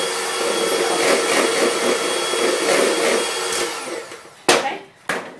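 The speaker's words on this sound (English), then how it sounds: "So you whip it until it's quite thick, okay?" Electric whisk whipping cream for a honeycomb semifreddo, giving a steady loud motorized whir for about four seconds, then cutting out with a couple of brief clattering knocks.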